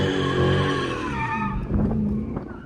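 A Chrysler 300 fitted with a 3.09 limited-slip differential slides, its tires squealing loudly and steadily under engine roar, the squeal wavering as the car drifts through the slide.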